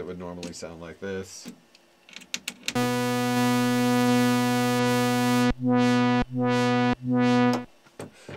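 An ARP 2600 synthesizer run through its 4012 filter plays a bright, buzzy sustained tone that cuts in and out in several bursts, following some clicks and short blips.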